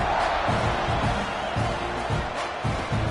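Stadium crowd in the football video game Madden 25, a loud continuous roar of many fans with rhythmic low stomping or chanting pulses throughout.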